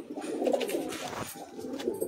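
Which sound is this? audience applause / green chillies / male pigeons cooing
male pigeons cooing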